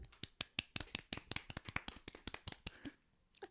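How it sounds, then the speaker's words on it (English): A few people clap in a brief, quiet round of applause, distinct separate claps in a quick irregular run that trails off after about three seconds. "Round of applause."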